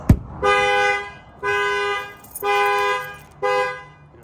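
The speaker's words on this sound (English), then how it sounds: "I'll try both sides so you can see that the alarm does go off on both sides" A loud Chevy Colorado pickup truck alarm, triggered by a shock sensor when the glass is banged, blares in four long, evenly spaced honks after a sharp initial thump, close by and unaccompanied by talk.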